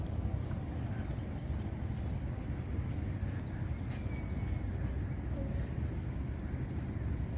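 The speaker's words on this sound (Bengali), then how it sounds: "একটা বড় জাহাজ আসতেছে" A large ship passes on a river by the bank on a rainy day, a steady low engine rumble with broadband wash and wind noise throughout, constant in level with no voices.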